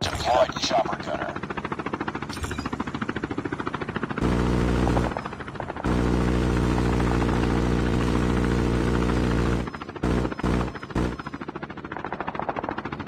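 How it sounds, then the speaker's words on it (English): A chopper gunner helicopter in a shooter video game roars with a loud, steady rotor drone across long stretches, broken by bursts of rapid gunfire and battle effects. "Deploy the chopper gunner."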